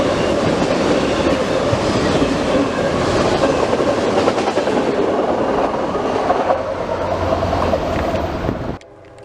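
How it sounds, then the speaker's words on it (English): A CSX freight train rushes through a station at track speed on the Mohawk Subdivision, a loud, steady rumble of rolling wagons with clickety-clack that drops off abruptly at the end. "this train was not wasting time today, as they were easily going track speed through the station"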